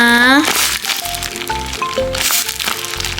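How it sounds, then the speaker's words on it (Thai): A plastic blind bag holding a Powerpuff Girls toy is torn open and handled, giving close, loud crinkling and sharp crackles in bursts, with a voice heard briefly at the start. "เป็นถุงพลาสติกนะคะ"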